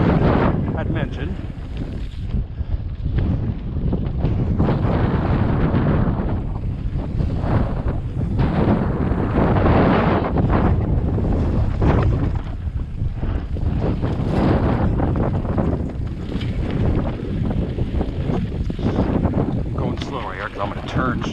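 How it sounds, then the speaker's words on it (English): Strong wind buffets the microphone throughout a mountain bike ride on a simple trail aboard a 2020 Transition Patrol X01 carbon enduro bike, with loud continuous rumbling gusts and a rider talking over it. "I apologize if there's a lot of wind."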